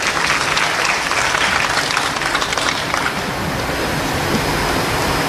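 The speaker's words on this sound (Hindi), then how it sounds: "जोरदार तालियां हो जाएं श्री ए साई मनोहर जी के लिए" A large crowd applauding a senior police officer at an official state event, dense, loud, continuous clapping that merges into a steady wash of sound with no talk above it.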